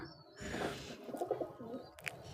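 Racer pigeons coo in soft, low, throaty bursts, two short rounds of cooing fairly close by, with a faint bird chirp near the end.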